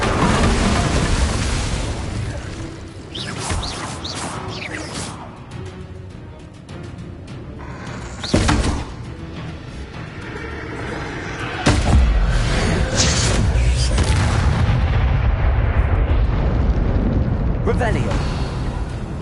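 Incendio fire spells blasting in the Hogwarts Legacy video game: a dense run of loud bursts and booms, with sharper blasts standing out midway, over constant game noise.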